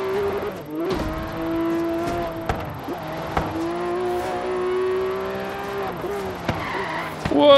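A car in Forza Horizon 3 brakes late into a corner, its engine droning steadily while tires skid and squeal, with sharp clicks and bumps scattered over the run and a louder burst at the end.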